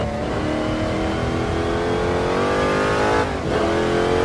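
A 600 hp 1963 Corvette Stingray's engine roars loudly and steadily at speed on the Nordschleife, its pitch climbing gradually before a brief dip near the end, with no talk over it.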